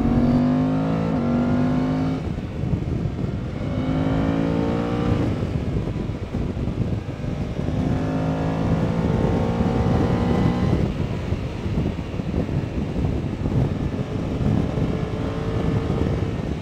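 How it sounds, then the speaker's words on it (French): A Suzuki 800DE motorcycle accelerates out of a curve on the road, its engine droning steadily and loudly with rising pitch sweeps under constant wind rush, a growl coming from the gearbox. "Dès que tu réaccélères, tu vas l'entendre en sortie de courbe."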